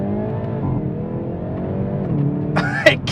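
A 2022 Hyundai i30N Fastback engine hums at steady revs, then rises and snaps with sharp crackles as it drops into first gear, close and loud, with a voice over it.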